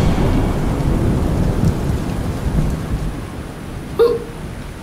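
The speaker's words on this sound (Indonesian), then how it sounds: "Itu suara petir." A low, steady rumble of thunder rolls under constant rain, with a brief sharper crack near the end.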